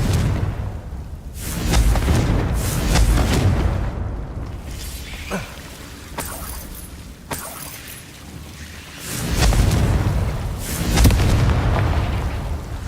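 Confringo fire spells in Hogwarts Legacy burst with loud booming, crackling blasts, one early, a quieter stretch of debris, then two more heavy explosions near the end.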